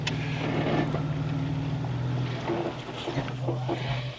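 Off-road lead vehicle climbing a mountain trail at Aetna Mountain, with a low steady engine drone, loud and close, broken by scattered knocks and rattles from the rough ground.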